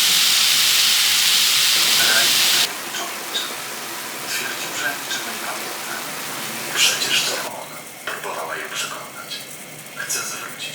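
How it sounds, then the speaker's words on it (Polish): A steady sizzling hiss of onion frying in a hot pan continues throughout, with occasional crackles and bursts of clatter. "cebula się smaży"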